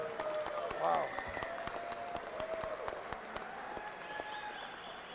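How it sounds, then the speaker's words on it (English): Applause for two boxers after a ten-round fight at the Paramount, a steady wash of clapping from the arena crowd at moderate level with a brief louder swell early on and amplified voices faintly over it. "let's get a nice round of applause out here for both of these fighters"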